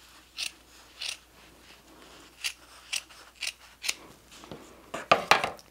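Scissors make about eight crisp, quiet snips while trimming one side of a folded piece for a beginner needle-felted monstera leaf project, with spaced single cuts followed by a quick cluster near the end and no talking.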